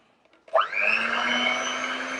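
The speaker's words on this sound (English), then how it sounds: "So you just whisk your egg white with low speed." An electric whisk starts up and runs steadily at low speed through egg whites for a soufflé omelette, a sustained close mechanical whir after a brief clatter, with no talk.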